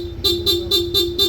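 Stock horn of a Honda ADV160 scooter beeping in five quick, evenly spaced short toots, close and fairly loud over a low idle hum.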